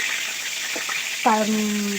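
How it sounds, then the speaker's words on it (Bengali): Pieces of fish frying in hot oil in a wok, a steady bright sizzle with a brief louder burst as more fish goes in, alongside a short tonal squeal. "এখানে দেখো কড়াই আমি অলরেডি তেল গরম হয়ে গেছে। এবারে মাছগুলো আমি একে একে দিয়ে দেবো।"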